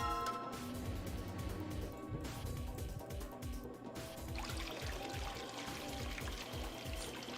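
Water pours steadily into a tank in the video game Zero Escape: Virtue's Last Reward, a continuous splashing fill that runs throughout beneath game music with a rhythmic beat.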